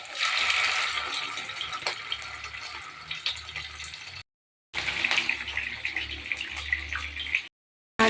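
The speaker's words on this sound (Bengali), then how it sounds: "তেল গরম হয়ে গেছে, এক এক করে মাছগুলো দিয়ে দেবো।" Pieces of rui fish hiss steadily in hot mustard oil, a close, dense, even sizzle that runs for several seconds, drops out briefly twice, then resumes, with no voices.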